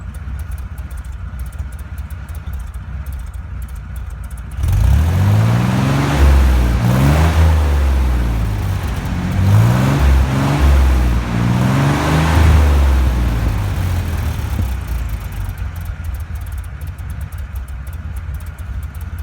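Jeep Dauntless 225 cubic inch V6 with Flowmaster mufflers revs loudly from the passenger side after a quiet start, three or four deep throaty throttle blips rising and falling, then settling back toward idle.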